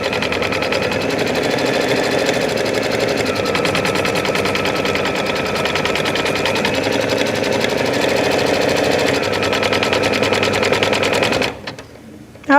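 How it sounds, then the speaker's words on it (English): An embroidery sewing machine stitches a straight-stitch outline through fabric basted to stabilizer, its needle running in a steady, loud, rapid rhythm close by for about eleven seconds before stopping abruptly. "we're going to stitch out, first of all, this straight stitch outline"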